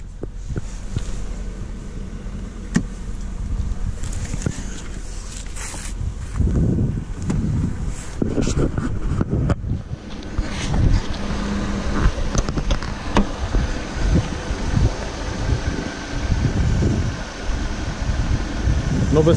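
A Mercedes S550 W221 engine starts and settles into an idle, giving a close, steady low rumble with uneven surges and faint background noise throughout.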